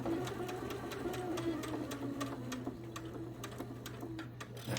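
A sewing machine stitches quilt blocks in a steady, close mechanical whir, with quick needle ticks running through it the whole time and no talking.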